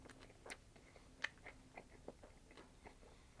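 Quiet, close chewing on a frozen marshmallow Peep with a hard core, a string of soft irregular crunchy bites and squishes, faint and alone with no talking.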